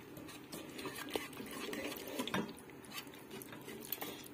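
A spoon stirs yogurt, egg and flour together in a bowl for soup, a soft, steady run of close, faint scraping and wet tapping that continues without talk.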